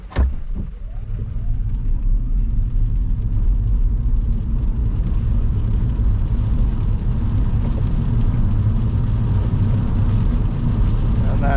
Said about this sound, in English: We'll just do a bit of a 0 to 100 run here just to see.